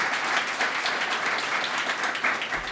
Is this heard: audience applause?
yes